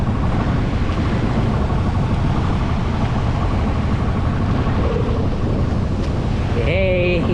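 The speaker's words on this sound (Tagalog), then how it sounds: "Hindi naman ganun kalakihan talaga yung alon." Sea waves wash around a small fishing boat heading out to set nets, a continuous rushing surf and wind roar dominating throughout, with a brief whistle-like tone near the end.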